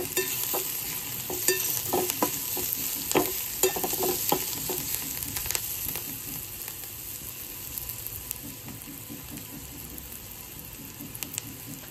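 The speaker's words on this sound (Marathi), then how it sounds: "छान असा गोल्डन होईपर्यंत आपल्याला परतून घ्यायचं।" Hara bhara kebab mixture of peas and spinach being sautéed in a pan with a pinch of turmeric: steady close sizzling with frequent scraping and stirring clatter from a spatula, and no talk.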